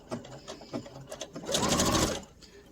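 A sewing machine stitching fabric: a few soft mechanical clicks and handling noises, then a steady whirring run of stitches for about a second before it stops, close and fairly quiet, with no talking.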